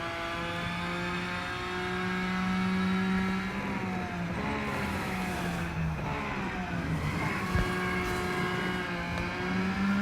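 A racing car engine in the video game Real Racing 3, heard from the cockpit as a steady loud drone whose pitch rises and falls through gear changes and cornering, with no talk over it.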